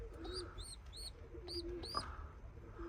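Young tumbler pigeons in a loft give repeated soft coos mixed with short high chirps, close by and steady over low background noise.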